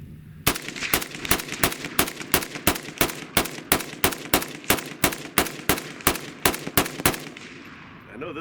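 AK rifle firing outdoors at a range, a rapid evenly spaced string of about twenty loud, sharp shots in quick succession, each with a short echoing tail, ending in a fading ring.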